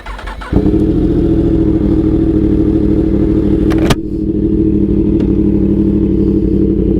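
A Yamaha R1 motorcycle running close by, a loud, steady low engine drone that briefly dips as the rider shifts, then carries on droning with no voices.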